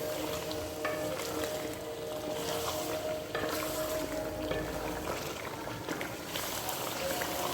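Potatoes fry in a pot as the base for chicken biryani, giving a steady, dense sizzle that runs throughout at a fairly loud, close level.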